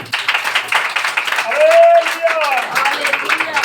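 A church congregation applauds for the Lord, a lively spread of clapping hands mixed with a voice rising and falling through the middle, crowd noise steady throughout.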